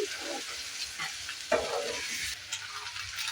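Egg bhurji sizzling steadily in a pan as a spatula stirs and scrapes it, a continuous close frying hiss broken by small scraping bumps.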